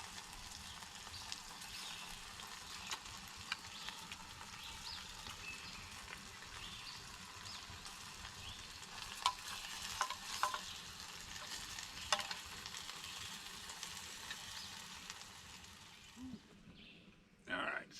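Sausage and barley liquid heats toward a boil in a metal canteen cup over a camp stove, giving a steady, soft hiss and simmering crackle that runs continuously, with a few faint knocks near the end.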